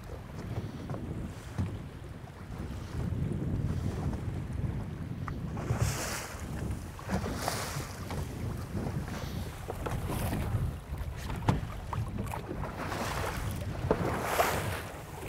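Motorboat easing up to a mooring buoy, a low engine rumble under steady wind buffeting and water wash, with occasional splashes and knocks, no speech.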